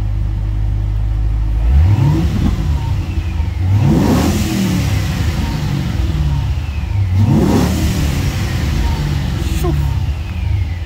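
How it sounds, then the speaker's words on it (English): A supercharged 2005 Ford Mustang Saleen S281 engine revs up hard three times, each roar climbing and falling back to a steady idle, loud and close with a whining supercharger edge. "So let's go ahead and do a few revs."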